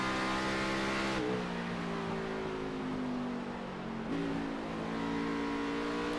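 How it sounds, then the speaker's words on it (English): Race car number 47 at Phoenix Raceway, heard on board, roars with a sustained engine drone and shifts down into third gear with abrupt pitch drops, loud and alone. "right there you can hear him shift down into third gear."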